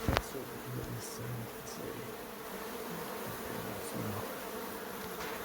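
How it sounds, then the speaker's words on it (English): A steady, dense buzzing of many honey bees swarming against bedroom windows fills the space, continuous and close, with individual insects droning louder now and then. "the windows are now chockers with bees again"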